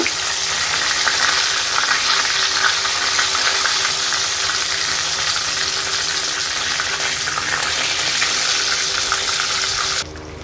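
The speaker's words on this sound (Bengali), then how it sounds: "এখন আমি এগুলো তুলে নিয়ে বাকিগুলো ভেজে নেব" Steady, dense sizzling of chicken frying in hot oil, close and continuous, with the sound dropping slightly at the very end.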